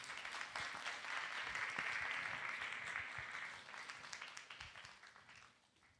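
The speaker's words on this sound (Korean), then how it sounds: "우리 장로님 모실 때 우리 큰 박수로 함께 모시도록 하겠습니다" A church youth congregation breaks into warm applause welcoming an elder to the stage, a dense steady clapping from many hands that swells early, holds, then thins out toward the end, with no talking over it.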